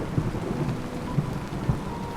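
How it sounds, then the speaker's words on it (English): A powerful thunderstorm approaches a coastal town by the sea: steady hissing rain with several low, dull thunder thumps rumbling at a distance. "a powerful storm is approaching."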